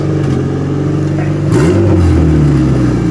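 Loud revving from a 270 hp turbocharged Honda Integra engine, up close, with a steady idle rumble followed by a sharp rise in revs around the midpoint that then holds high and gradually eases back down.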